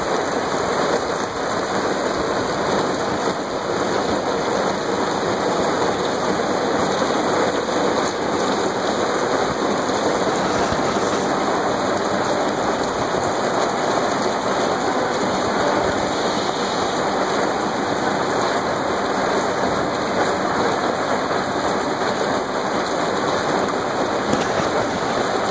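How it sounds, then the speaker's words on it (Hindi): Heavy rain pours steadily in a village in Swat, a dense, constant hiss with a faint rumble of distant thunder, loud and unbroken for the whole stretch with no voices. "जी तो ये आवाज़ आपने सुन लिया बारिश का।"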